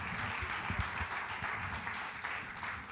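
Steady applause from a church congregation, a dense patter of clapping at an even level that fills the whole moment.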